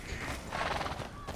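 A horse in Red Dead Redemption 2 whinnies over the clip-clop of its hooves, a short, fairly quiet burst of sound heard up close.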